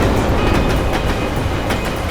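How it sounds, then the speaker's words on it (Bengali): A train rumbles past close by with a loud, steady roar and faint rhythmic clatter of the wheels on the rails, heard alone. "আর ট্রেনের আওয়াজও শুনতে পেয়েছিলাম আমি।"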